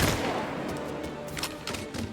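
Gunfire in the video game Mafia Definitive Edition, a dense, continuous stretch of loud shots and impacts with no gaps, filling the whole moment.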